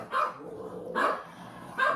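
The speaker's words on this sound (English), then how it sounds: "Please enjoy my dog's barking." Three loud dog barks, spaced about a second apart, ring out close by in a quiet room, each bark a short sharp burst.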